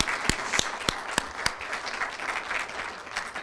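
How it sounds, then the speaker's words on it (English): An audience applauds graduates at an internship graduation ceremony, with a few sharp, distinct claps at first that spread into steady, moderately loud clapping across a hall. "So please give them another round of applause."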